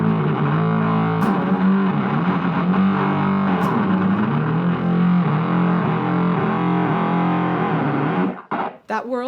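An electric guitar played through distortion and overdrive pedals rings out thick and saturated, sustained gritty chords shifting pitch over several seconds before cutting off abruptly, followed by a few clicks.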